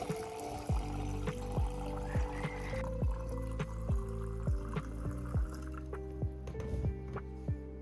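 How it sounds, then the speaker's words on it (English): Room-temperature water poured into a jar holding coffee grounds, a close, quiet series of gurgling drips and splashes in an irregular rhythm as the jar fills, with no voices. "Then fill it up with water."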